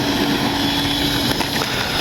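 FlyFans L-39 64mm electric ducted-fan RC jet model in flight, a steady loud whooshing fan whine with a high tonal hum, held constant for the whole stretch with no talk over it.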